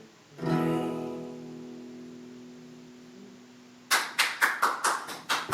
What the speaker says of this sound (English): What are you clapping for?